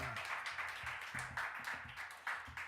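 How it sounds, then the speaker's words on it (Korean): Applause from a church youth service congregation greeting a guest pastor, steady clapping throughout with no talk over it. "나오실 때 큰 박수로 환영하겠습니다."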